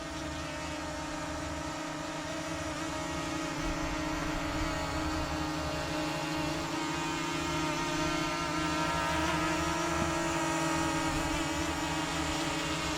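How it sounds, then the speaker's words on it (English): An F007 Pro drone in flight during a follow-me, waypoint and range test, giving a steady, continuous motor and propeller whine that holds at an even level throughout with no talk. "Not a bad drone at all. Flies great."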